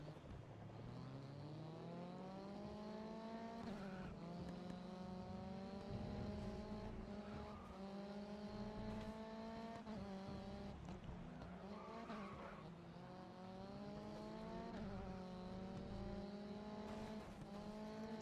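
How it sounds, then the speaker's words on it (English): Touring race cars compete in the racing game GRID Autosport, engines droning and rising in pitch through repeated gear changes, with tire squeal and a steady, moderate-level roar throughout. "It's touring car racing."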